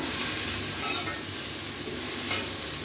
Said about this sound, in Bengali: এখন আমি ধনেপাতা ভাজবো সঙ্গে